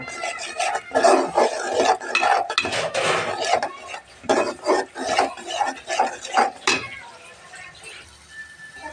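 Turmeric, coriander and chilli powder with salt being stir-fried in a pan: rapid, rhythmic scraping and rasping of a spatula against metal, close and fairly loud, easing off toward the end.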